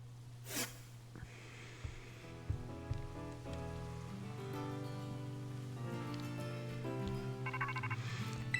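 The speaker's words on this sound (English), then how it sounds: "And there's the phone call." A phone rings in the video game Pokemon Scarlet, heard as a steady repeating electronic tone pattern over quiet game music, with no talking.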